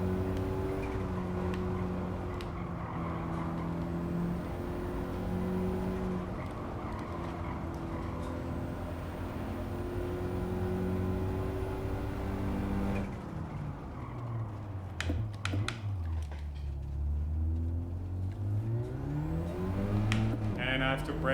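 A race car engine in Gran Turismo 7 holds a high whine through a long stretch, then drops and climbs as it brakes and revs out of a corner, with someone talking over it.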